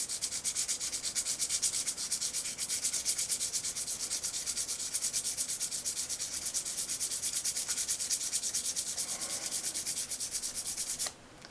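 A boxwood bottleneck slide is sanded by hand in steady back-and-forth strokes, a close, continuous rhythmic rasping scrub that stops abruptly near the end.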